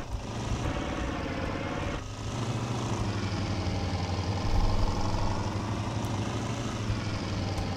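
A helicopter in Arma 3 Altis Life gives a steady, droning rotor and engine hum that holds at an even level throughout, swelling slightly midway, with no voices over it.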